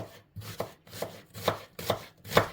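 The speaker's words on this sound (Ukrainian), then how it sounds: "розпочинаємо з того, що нарізаємо цибульку" An onion being cut into quarters with a knife on a board, five or six crisp, evenly spaced chops close up and quiet, getting a bit sharper toward the end, with no talk.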